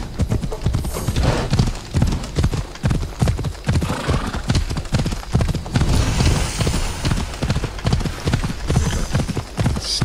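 Rapid, steady hoofbeats of a galloping horse in a video game, loud and continuous, with a brief whinny mixed in.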